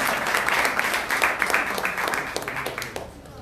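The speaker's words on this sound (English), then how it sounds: "Applaudissez d'abord pour leadership" Applause from an audience at a brunch gathering, a dense patter of clapping that holds steady for a few seconds before thinning slightly near the end.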